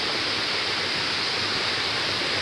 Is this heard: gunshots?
no